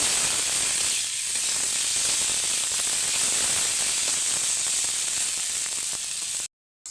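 Okra (bhindi) frying in a pan gives a dense, continuous sizzle and hiss, with faint stirring scrapes underneath, close and steady before cutting off abruptly at the end.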